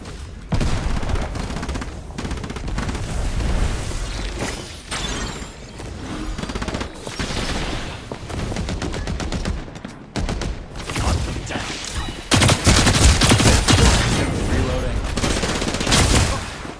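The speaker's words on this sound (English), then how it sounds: "I'm taking heavy fire." Sustained video game gunfire in Farlight 84, dense bursts of automatic fire and booms filling the whole stretch, loud and continuous with brief lulls, some voice mixed in.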